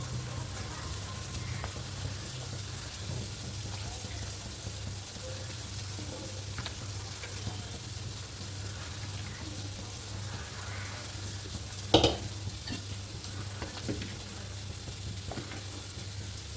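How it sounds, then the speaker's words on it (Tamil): Hogenakkal-style fish curry bubbles in the pan as cleaned fish is added and stirred, a continuous close sizzling simmer with one sharp utensil clatter partway through. "குழம்பு வந்துட்டு நல்லா கொதிச்சு வந்துடுச்சு"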